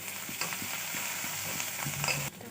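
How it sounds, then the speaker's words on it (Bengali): Sliced onion with three broken green chillies sizzles steadily in hot oil in a home kitchen, with soft stirring scrapes at an even pace and the hiss cutting off near the end. "পেঁয়াজ ভাজার মধ্যে আমি 3টে কাঁচা লঙ্কা ভেঙে দিয়ে দেব।"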